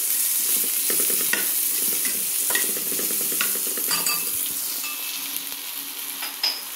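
Onion dry-roasting in a pan for masala, a close steady hiss with repeated scraping and stirring clicks scattered throughout, no voices.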